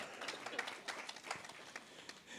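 An audience at an equestrian federation congress in Avignon gives faint, distant applause as a panelist takes his seat, a soft, continuous patter of scattered claps.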